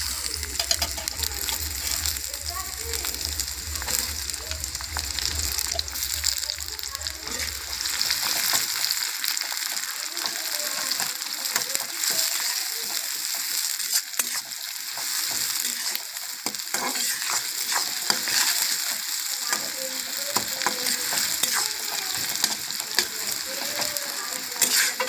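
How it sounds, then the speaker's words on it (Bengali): Chopped onion sizzling in a hot karahi for a village-style chicken kosha, a dense, steady frying hiss that runs throughout, with a low mechanical hum fading out early on. "তো দেখতেই পাচ্ছেন কড়া গরম হয়ে গেছে। আমি পেঁয়াজ কুচিটা দিয়ে দেব।"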